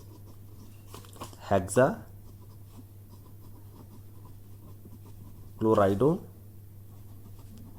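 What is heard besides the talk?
writing the chemistry formula hexachloridozincate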